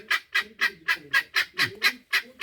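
Guinea fowl call in a fast, regular series of about ten harsh, rasping cries, close and clear with no talking.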